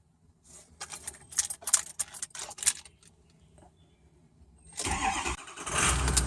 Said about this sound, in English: After this 30-second count, I will go ahead and crank it.